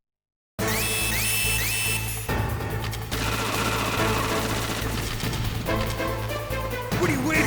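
Gunfire from Metal Gear Solid plays on a PS5, with dense bursts and rapid shots over game music and a low drone after a brief silence at the start.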